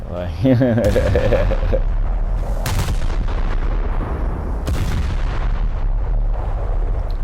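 Naval guns fire in War Thunder, with heavy booming shots and rumbling blasts layered over continuous battle noise, while a voice talks over much of it.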